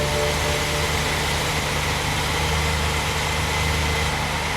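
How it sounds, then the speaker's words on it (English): BMW N62 V8 engine running at idle, a steady, even mechanical hum with a low drone that holds constant and close throughout, with no voices. "start the engine."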